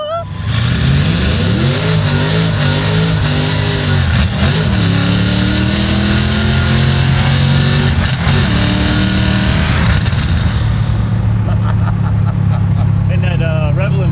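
A garage-built '67 Chevy Camaro restomod with a 755 horsepower LT5 V8 revs hard and loud up close, its pitch climbing and falling through gear changes before settling to a lower roar, with voices talking over it.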